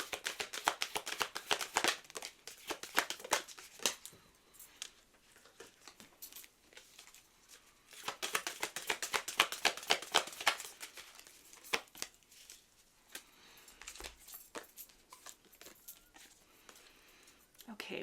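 Oracle cards being shuffled by hand, a fast papery riffling and flicking in repeated bursts with short pauses, close and crisp.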